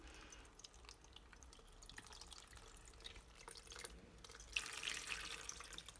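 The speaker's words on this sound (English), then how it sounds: "I'm going to pour water on them." Water poured from a tap or jug into a pot of stuffed eggplants being prepared for makdous, a steady splashing trickle close by that grows louder and fuller toward the end.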